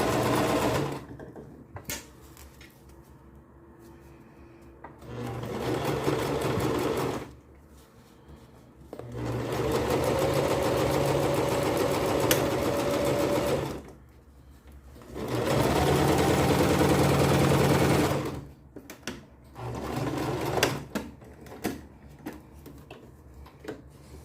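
A sewing machine stitches a French seam on satin fabric in several loud, close whirring runs of a few seconds each, broken by quiet pauses with small handling clicks.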